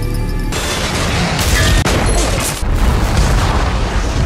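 Explosion of the Deepwater Horizon oil rig in a film: a loud, dense roaring blast that swells suddenly and keeps rumbling with crackling debris throughout, heavy and close.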